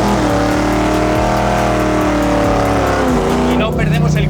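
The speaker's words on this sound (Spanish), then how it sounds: "Vamos a hacer una picadita de embrague en tercera." A car's engine roars loudly and continuously as it drifts after a clutch kick in third gear, the pitch rising and shifting with a faint tire squeal as the revs climb.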